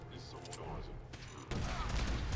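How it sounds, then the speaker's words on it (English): In the video game Fallout 4, combat brings quick rattling bursts of gunfire and sharp impacts, with a heavier blast thudding in partway through, all fairly faint. "Okay, so we got decent explosion right there."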